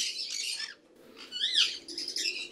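Pet sun conures in an aviary give bright, sharp chirps in three bursts, close and clear, with brief fluttering between calls over a faint low background hum.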